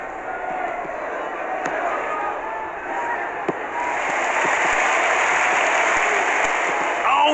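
Football stadium crowd roaring and cheering after a goal, a dense steady wash of noise that swells louder partway through, with faint commentary underneath.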